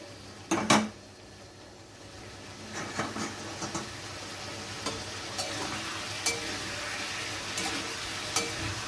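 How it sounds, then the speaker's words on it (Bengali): Sliced onion is stirred into chicken frying in a pan, with a soft sizzle beneath scraping spoon strokes and occasional clinks against the pan, close by and free of speech. "পেঁয়াজটা দিয়ে আমি ভালো করে চিকেনের সাথে মিশিয়ে নিলাম"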